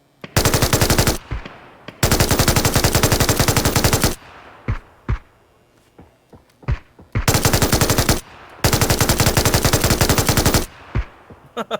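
Bursts of automatic gunfire in PUBG come in several long, loud, rapid strings separated by short pauses and a few scattered single shots.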